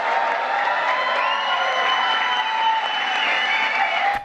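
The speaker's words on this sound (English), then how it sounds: "Why does Jill clap with her fingers spread open?" An audience at a live event bursts into dense, loud applause with cheering and whoops, sustained evenly for several seconds before cutting off.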